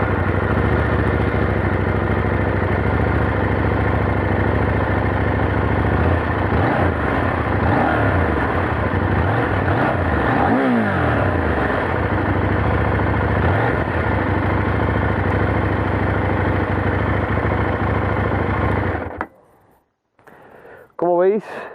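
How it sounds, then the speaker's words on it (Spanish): A 2022 KTM 890 Duke two-cylinder motorcycle engine idles loud and close, rising and falling in pitch as it is blipped midway, then cuts off abruptly near the end. "el bramido de estos 2 cilindros."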